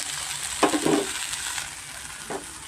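Masala for pudina bath frying in oil in a pan: a steady soft sizzle with a few short stirring scrapes, close and moderately loud, with no talking.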